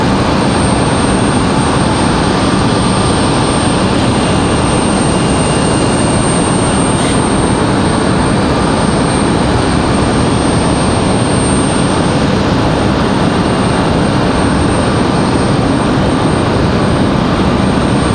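An Icelandair jet airliner arriving at Raleigh-Durham airport produces a loud, continuous engine roar that stays strong and even from start to finish.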